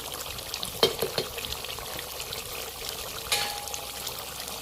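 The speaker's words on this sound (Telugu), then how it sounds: "చూడండి ఎలా ఉడుకుతుందో" Country chicken curry simmering in a pot, village-style, a faint bubbling and gurgling with a few soft pops and splutters over a low steady hiss.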